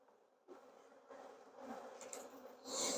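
Honeybees buzz steadily while being shaken into a horizontal hive, a close, rising swarm hum that grows louder toward the end with faint handling sounds.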